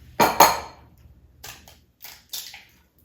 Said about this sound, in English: I'm going to break the eggs and mix them